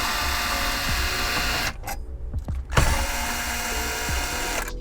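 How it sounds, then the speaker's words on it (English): A socket and ratchet working 10mm bolts loose from a Toyota dashboard, giving a close, steady mechanical clicking that pauses briefly and resumes, with no talk. "Next, let's go ahead and remove the 4 10mm bolts. So go ahead and grab a 10mm socket and ratchet."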